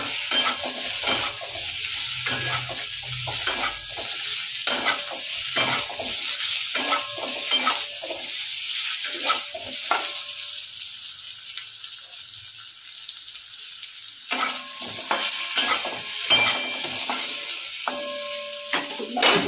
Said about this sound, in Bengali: ডিমটা ভাজা হয়ে গেছে, এরপর আলুটা এর মধ্যে দিয়ে ভেজে নেবো।